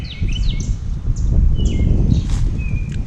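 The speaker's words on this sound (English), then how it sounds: "You can hear all the birds." Birds chirp and sing outdoors in several short, bright calls scattered over a steady low rumble of a breeze; no one speaks.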